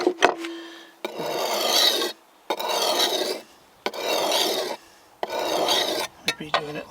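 Hatchet blade drawn across a sharpening stone with coarse and smooth sides, heard as four long, even rasping strokes separated by short pauses, with a few light knocks at the start and end.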